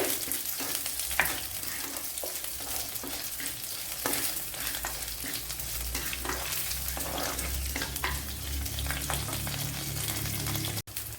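Green chilies, garlic and ginger fry and sizzle in a pan for a Kerala fish curry, making a steady hiss with occasional scraping stir strokes. The sound is close and continuous, with no talking.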